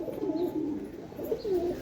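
Magnet pigeons coo softly at close range, with two rolling, throaty coos close together, heard alone against a quiet background.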